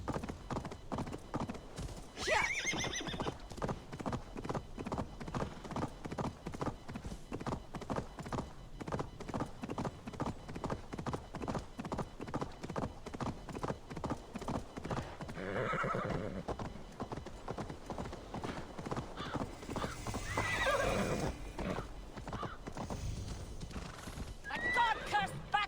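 Horse hooves clip-clop in a steady galloping rhythm with occasional neighs in Assassin's Creed Valhalla, loud and continuous over game sounds, with some talking mixed in.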